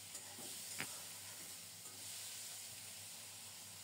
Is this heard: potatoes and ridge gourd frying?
yes